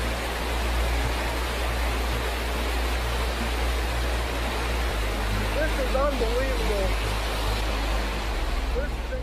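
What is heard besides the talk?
waves of floodwater after heavy rain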